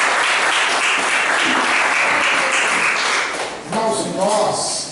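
A church congregation at a Sunday worship service bursts into loud, dense applause that carries steadily, then thins as a voice speaks near the end.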